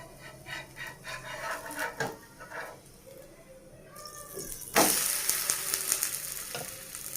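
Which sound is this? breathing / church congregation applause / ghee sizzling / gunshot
ghee sizzling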